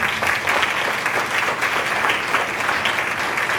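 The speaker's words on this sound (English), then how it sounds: "Let's give them a round of applause." Audience applause at an education equity conference, a steady dense clapping from a full room that holds evenly for several seconds with no voices over it.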